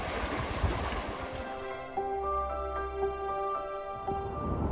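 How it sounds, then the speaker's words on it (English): Fast-moving, cold river water rushes steadily and fairly quietly at close range in a picturesque mountain valley, a continuous broadband wash with no speech. "Nice and cold, this water is moving fast."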